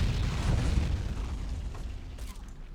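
Video-game vehicle firing grenades or autocannon rounds in a mod depicting a Russian invasion of Germany, a rumbling string of muffled booms that fades over a few seconds.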